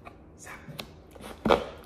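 A knife cuts through a Twix candy bar in a few short, crisp chopping taps, the last one loudest, close up with no talk.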